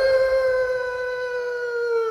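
A human voice imitating a little dog's howl in a Roblox game: one sustained, clear, slightly falling howl held for a couple of seconds, close and fairly loud.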